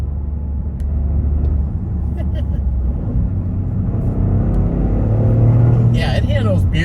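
A Toyota GR Corolla engine revs hard toward red line in second gear, a loud rising drone under road rumble with brief crackles near the end, while someone talks over it.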